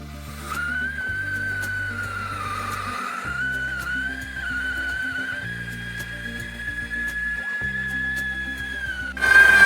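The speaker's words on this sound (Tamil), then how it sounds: "இப்போ வெடிக்கிற வெடி குக்கரில் விசில் அடித்தா எப்படி இருக்குமோ அதே மாதிரி விசில் சத்தம் கேட்குற வெடி" A Diwali firecracker gives off a long, steady, high whistle, like a pressure cooker, over a rhythmic repeating thump in the background. A sharp burst closes the sequence.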